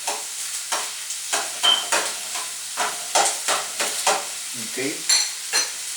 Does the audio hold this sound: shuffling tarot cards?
no